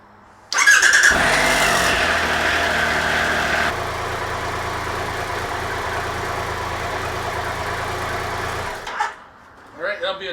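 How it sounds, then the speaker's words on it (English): A Triumph Tiger Explorer 1200 motorcycle cranks with a short starter whir, then fires and settles into a steady, close idle that carries on for several seconds before cutting off, followed by brief handling noises. "Let's get the bike started."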